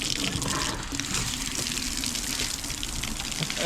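Water gushes steadily from opened valves into a dog pool, a loud, continuous splashing rush up close with no break, and barely any talk over it.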